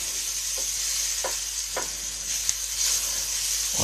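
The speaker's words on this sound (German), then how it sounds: "die Blätter müssen, glaube ich, nur so einen ganz kurzen Moment hier durch die Pfanne gezogen werden" Swiss chard leaves tossed briefly in a hot frying pan give a steady, soft sizzle and hiss, with a few light stirring scrapes and no talking.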